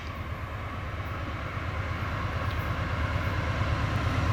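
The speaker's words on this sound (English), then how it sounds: "We have train 424 headed east at Paris West." A heavy, steady rumble with a rhythmic low clatter builds slightly in loudness as a long CN freight train rolls past nearby.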